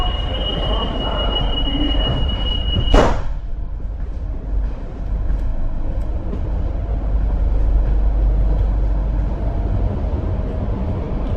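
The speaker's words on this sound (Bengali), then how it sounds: "অনেক সুন্দর মেট্রো" A nearly empty metro train runs through India early in the morning with a loud, steady rumble and a high wheel squeal at the start. A sharp bang comes around the third second, then the ride continues in a constant drone.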